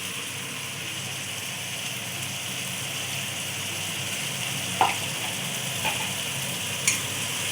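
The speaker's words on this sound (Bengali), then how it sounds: "মশলাটাকে ভালো করে কষিয়ে নেব" Spice paste with turmeric sizzles steadily in a pan for a fish curry made with mustard and poppy seed, a constant soft hiss punctuated by a few sharp clinks of stirring.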